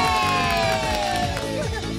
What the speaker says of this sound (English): A big cheer for the little Skittles!